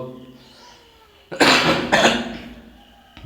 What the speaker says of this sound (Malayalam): ചുമ ഉണ്ട്